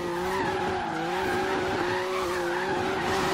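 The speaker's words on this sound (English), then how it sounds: "Now, obviously, we're just power sliding." A turbocharged BMW M2 power slides in Forza Horizon 3, its tires skidding in a continuous, wavering squeal over a steady engine roar, loud and close throughout.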